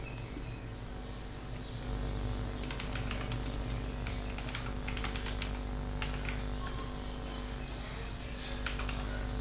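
Fingers type on a computer keyboard while writing a test scenario: bursts of rapid clicking keystrokes, moderately close, over a steady low hum, pausing briefly between runs.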